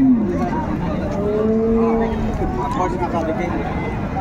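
A dairy cow moos in a long, drawn-out low call over a busy cattle market crowd in Raniganj, Dinajpur, with steady chatter and background noise.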